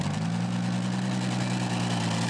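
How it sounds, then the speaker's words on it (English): A truck-pulling tractor powered by a single Transmarch V12 engine idles steadily at a low, heavy rumble, loud and continuous throughout with no pauses. "Just one engine for this tractor though, a Transmarch V12."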